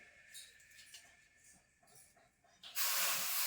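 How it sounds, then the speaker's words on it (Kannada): Water hits a hot griddle while sorghum roti dough is prepared, first faint clinks and shuffling, then a sudden loud, sustained hiss of steam near the end. "ಹಂಚಿಗೆ ನೀರು ಹಾಕೊಳಗತ್ತೀನಿ"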